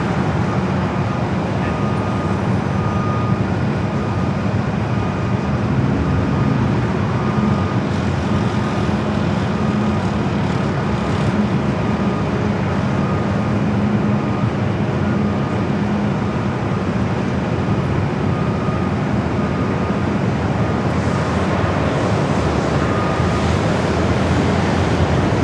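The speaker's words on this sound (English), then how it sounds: "Brand new A321neo heading to Atlanta, rolling down at 24 left." A brand-new Airbus A321neo rolls down runway 24 left at Los Angeles International Airport for takeoff to Atlanta, giving a loud, continuous broadband rush of engine noise that holds steady throughout.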